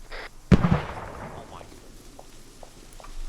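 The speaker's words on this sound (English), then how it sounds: "I threw a grenade and called it out on the radio" A grenade goes off in a military shooter game, a single sharp loud blast that decays into a rumbling tail, with faint scattered pops afterwards.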